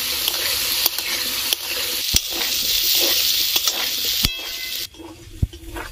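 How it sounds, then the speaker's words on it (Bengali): Potatoes stir-fried in a pan with salt, turmeric and coriander powder give a steady close sizzle and bright hiss, broken by sharp scraping stirs of a spatula, with the frying suddenly quieter near the end. "এবার ভালো করে আলুটাকে কষিয়ে নিব।"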